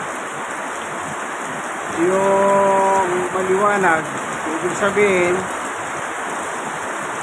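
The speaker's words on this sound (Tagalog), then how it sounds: "yung ulan unti-unti na nababawasan" Steady rain hisses throughout while someone speaks in the middle; the downpour stays constant rather than audibly easing.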